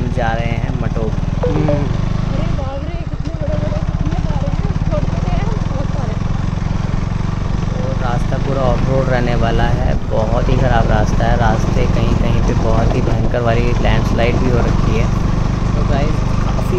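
A KTM Duke 200 motorcycle rides an offroad route in Uttarakhand during the monsoon, and its steady engine drone runs loud and continuous throughout. Background music and speech sit over the engine.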